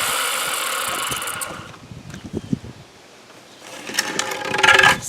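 Circular saw cutting wooden boards for a flower garden box, with a loud whining cut that fades to a quiet stretch of scattered clunks before the saw rises again near the end.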